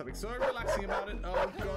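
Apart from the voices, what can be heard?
dog barking at player in video game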